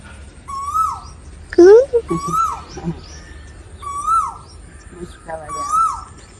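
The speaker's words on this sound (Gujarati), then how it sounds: "કોઈ કોયલ બોલે કોયલ બોલે છે" An Asian koel calls four times in a steady, evenly spaced rhythm of rising, clear notes, fairly close and loud, with people's voices briefly heard between the calls.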